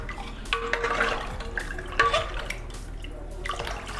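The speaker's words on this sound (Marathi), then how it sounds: "हे मसाले या पाण्यामध्ये मिक्स करून घेते." Spoon stirring pani puri masala and amchur powder into water in a bowl, soft swishing and faint clinks against the vessel, quiet and close with no talking.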